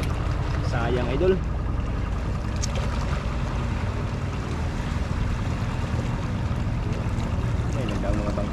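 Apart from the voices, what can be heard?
boats passing on the water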